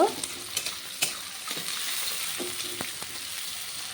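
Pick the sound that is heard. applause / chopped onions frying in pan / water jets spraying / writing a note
chopped onions frying in pan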